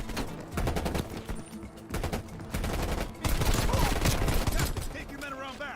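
AK-47 fire in a shooter video game, dense bursts of rapid automatic shots rattling almost continuously at close range, mixed with other gunfire and battle noise.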